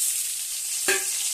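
Vegetables sauté with a steady, soft sizzle in a pan for an okra tamarind curry. There is one brief stir or scrape partway through and no talking.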